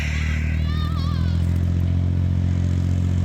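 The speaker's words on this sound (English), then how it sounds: "So now Brett's bringing the tractor out to go tow it back into the house" Farm tractor engine running steadily with a deep, constant low drone and a mechanical clatter, close by outdoors in freezing weather, while a voice speaks briefly over it.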